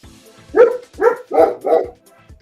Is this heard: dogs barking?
yes